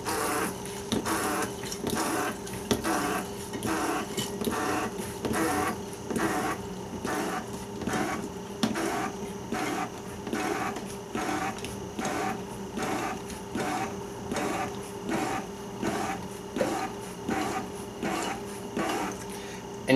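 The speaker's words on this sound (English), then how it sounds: "Okay, so I'm going to give it a quick pump here." A portable hand-pump water filter being worked, pushing untreated water through to a clean outlet: a steady run of regular mechanical strokes, each a short rasping pulse, repeating evenly and close up for the whole stretch with no talking.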